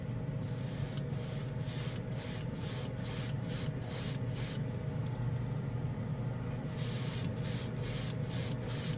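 An airbrush at 15 PSI sprays black mica powder paint onto a plastic model in short repeated hissing bursts, a rhythmic run of trigger pulls, a pause, then more bursts over a low steady compressor hum.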